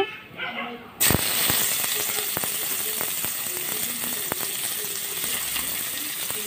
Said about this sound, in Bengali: তো আমি এখন তেলের মধ্যে দিয়ে দিব পেঁয়াজ কুচি।